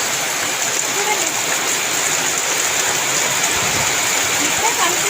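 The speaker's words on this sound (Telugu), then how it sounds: "భలే పడుతుంది కదా వర్షం." Heavy rain pours down in Vijayawada, a loud, dense, unbroken hiss of falling water that fills the whole stretch.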